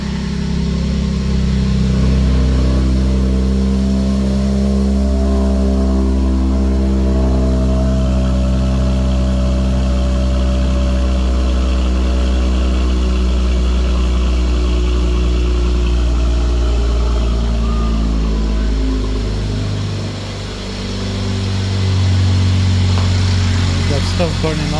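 A Mercedes C43 AMG engine running after a turbo upgrade, idling with a deep steady rumble and a few small shifts in pitch, close and loud, with a brief dip near the end.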